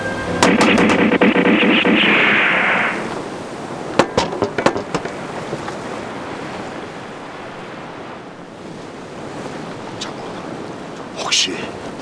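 Cannons fired at a castle in a battle scene: a roaring rush of blast noise and sharp bangs, then scattered distant booms and cracks over windy, surf-like rumble.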